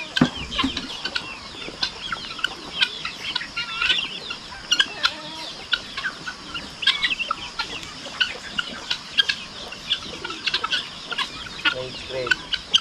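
Many chickens cluck steadily in a busy, overlapping chorus outside a rural hut on a cold morning, with scattered sharp clucks throughout and no other prominent sounds.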